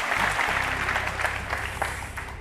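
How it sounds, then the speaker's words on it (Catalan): A television game-show studio audience claps for the house band, with a low musical tone fading at the start; steady, full applause runs throughout, with a few sharper claps standing out. "Doncs vinga, un fort aplaudiment per la nostra banda i aquesta prova de la coctelera"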